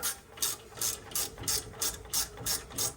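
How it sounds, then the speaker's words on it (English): A 10 mm ratchet clicks rapidly as it loosens the rear brake caliper bolts on a Ford F150, with about eight crisp, evenly spaced bursts of ratcheting, close and clear. "All you need is a 10 mil. Break these two guys free to get that caliper off."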